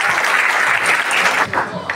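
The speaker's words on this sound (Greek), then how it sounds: "Θέλω ένα δυνατό χειροκρότημα" A political rally crowd in Ptolemaida applauds loudly and steadily for two seconds, dense clapping with some voices mixed in.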